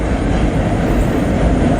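An eastbound train crosses the Ohio River bridge near South Point, Ohio, a steady, loud rumble of rolling cars holding even throughout without a break.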